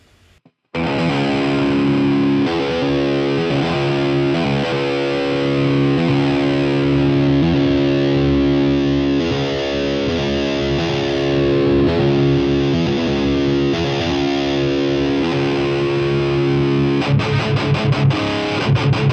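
Loud, heavily distorted electric guitar chugs steadily through a Softube Amp Room simulated speaker cabinet, thick and saturated, continuing for many seconds before a quick staccato flurry near the end.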